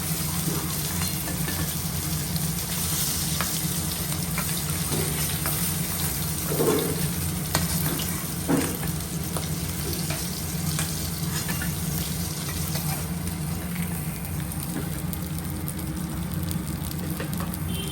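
Fish fries in hot oil in a home Bengali kitchen, giving a steady, soft sizzle with a low hum beneath and a couple of brief utensil clatters in the middle.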